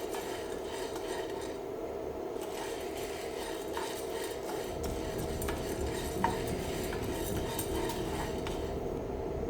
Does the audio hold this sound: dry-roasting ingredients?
yes